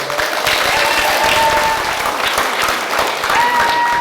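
A crowd at the LA Chinatown Hungry Ghost Festival claps steadily and loudly throughout, sustained applause with a few voices faintly audible underneath.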